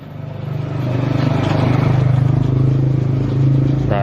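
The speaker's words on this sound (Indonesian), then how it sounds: "bentar, ada motor lewat" Motorcycle engine humming steadily past at close range, swelling in loudness over a few seconds with a rattling, pulsing drone and no talking.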